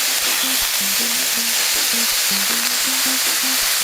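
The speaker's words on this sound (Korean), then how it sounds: "이 삼겹살이 아주 노릇노릇하게 구워져서 삼겹살의 기름이 빠져나올 때까지 그렇게 구워줍니다" Pork belly sizzling in a hot pan with no other ingredients, a dense steady crackle of rendering fat with frequent sharp pops and spits, close and loud throughout.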